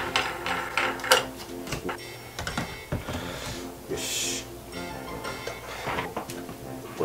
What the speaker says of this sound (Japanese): あのさっきの下の土台の穴とくっつけてネジを締め込むみたいな感じですね